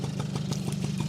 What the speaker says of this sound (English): Wow, it's quiet. It's about as quiet as a two-stroke gets.